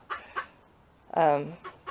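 A bantam hen in a chicken coop clucks in a short burst, a few brief cackles followed by a louder, drawn-out squawk, fairly close by.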